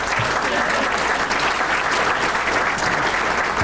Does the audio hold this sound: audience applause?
yes